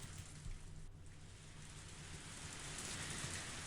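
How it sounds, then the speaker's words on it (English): Torrential rain pours steadily in a visual novel video game scene, a dense, continuous hiss of heavy downpour that holds loud and even throughout with no voices. "Even in this torrential rain, they didn't have an umbrella."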